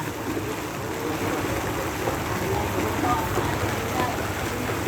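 Floodwater rushes steadily through a street in Taytay, Rizal during Typhoon Carina's heavy rain, a constant broad watery roar with faint voices in the background.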